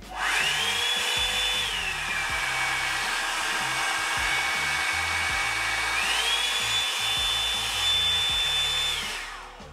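A hair dryer whirs loudly and steadily with a high whine, its pitch dropping and then rising again partway through.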